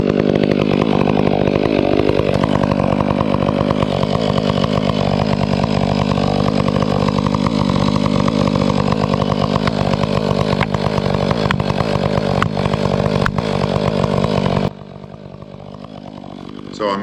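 A full-wrap-handle chainsaw cuts into a leaning tree on a farm, the engine roaring close and continuous for about fifteen seconds with slight pitch wavering before suddenly dropping to idle.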